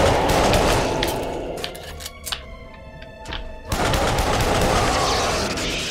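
Pistol gunfire from the video game Duke Nukem Forever, a burst of sharp shots and impacts cutting through dense game noise, with a few quieter clanks in a brief lull before the loud rumble returns.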